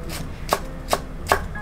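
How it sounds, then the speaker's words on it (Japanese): Three crisp kitchen-knife chops cut through rolled shiso leaves on a cutting board, each a short sharp knock spaced evenly about 0.4 seconds apart, close and clear with no talking. "きれいに重ねてからくるくるっと巻いていって、端っこから包丁で刻んでいきます。"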